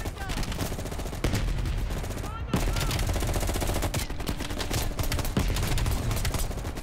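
A sustained firefight in Black Ops Cold War, with loud, continuous machine-gun bursts and rapid rifle shots overlapping throughout, sharp impacts punctuating the steady rattle, and muffled voices underneath.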